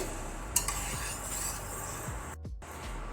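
A spoon stirs rice into a pressure cooker pot while making jaggery rice, giving soft, close scraping strokes and a faint clink, quiet and with no talking.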